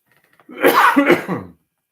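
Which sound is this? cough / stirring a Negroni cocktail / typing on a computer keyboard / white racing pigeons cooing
cough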